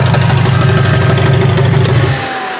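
A Toyota Avalon engine running with a broken-off EGR valve, a steady loud rumble with a rough, knocking edge held for about two seconds before easing down toward idle.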